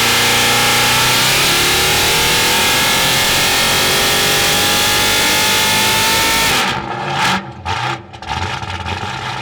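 A big block Chevy engine roars at sustained high revs on a dyno, pitch climbing slowly and steadily, then cuts off sharply near the end and drops into a few lower, uneven revs and settling.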